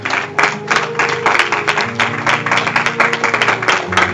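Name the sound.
congregation applauding and acclaiming the Lord at church service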